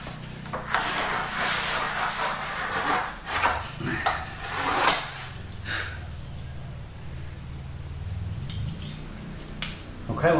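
A hand saw rasps back and forth through a scored board, forceful rough strokes close up for several seconds, then easing off to quieter scraping as the cut finishes.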